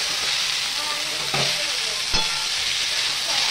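Potatoes fry in a pan at home with a constant, loud hiss and a couple of brief stirring clicks, with no voices.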